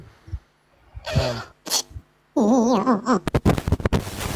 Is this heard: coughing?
yes